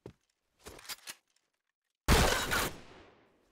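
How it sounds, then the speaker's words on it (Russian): Gunfire in the online shooter Point Blank: a sharp shot, then a quick cluster of three bursts, a pause, and a loud sustained volley that rings out and fades. "По-моему, он попытался сейчас выстрелить, а у него пули не оказалось."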